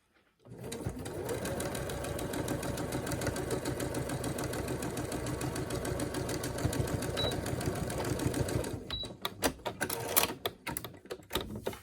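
A sewing machine stitching a fabric face mask runs in a fast, even rattle for about eight seconds, then slows into a few separate backstitches and mechanical clicks.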